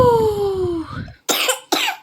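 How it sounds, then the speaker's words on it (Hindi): A young girl with a cold coughs twice in short, sharp bursts close by, following a brief stretch of a voice at the start. "मेरी बेटू को सर्दी और खांसी दोनों हो चुका है"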